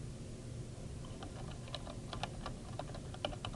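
Typing on a computer keyboard, a quick scatter of soft clicking keystrokes, faint over a steady background hum, with no talk.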